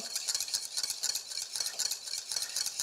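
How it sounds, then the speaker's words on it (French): Mustard and oil being whisked briskly in a bowl for homemade mayonnaise, a steady run of quick, light scraping and clicking strokes at close range with no talking. "je mélange et je mets mon huile sur le bord du bol comme ça"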